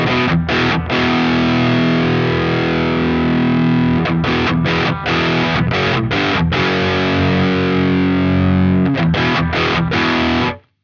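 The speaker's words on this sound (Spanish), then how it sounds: "Graves al máximo y sigue sonando espectacular, tiene definición nota por nota." Distorted electric guitar through a Friedman JJ Junior amp with the bass turned to maximum, playing loud, dense chords and riffs with brief stops and clear note definition, continuous for about ten seconds before cutting off.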